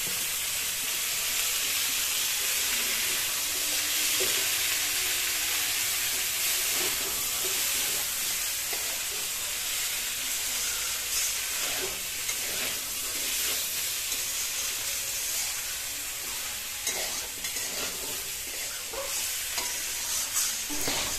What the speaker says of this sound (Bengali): আমরা এখানে মোটামুটি 2 মিনিট ধরে এটাকে খুব সুন্দর করে মাংসের মতো কষাতে থাকবো